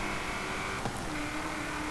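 Supercharged V8 of a 2015 Ford Falcon GT F 351 in Forza Horizon 5, a sustained steady engine drone with a brief shift in pitch partway through, loud and continuous with no voices.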